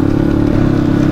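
A motorcycle engine idling or running close by on the way to a dirt track, a loud, steady low rumble with a constant throb.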